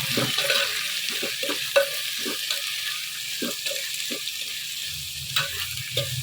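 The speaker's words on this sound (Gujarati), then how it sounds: "ચમચીથી આપણે બધું પહેલાં હલાવી દેવાનું છે" Green chillies and mixed vegetables frying in a home kitchen pan, a steady sizzle broken by repeated scrapes and knocks of a spoon stirring at an irregular rhythm, close and moderately loud with no talking.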